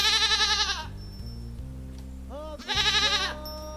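A farm goat on Agriculture Day bleats twice, loud and close, with long wavering cries separated by a short pause and a low background hum.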